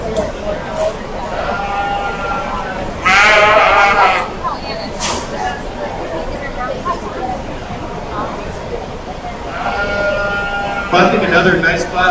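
Sheep bleat in bursts during a market show at the Richland County Fair and Rodeo, several loud calls near and farther away over a busy crowd murmur with people talking.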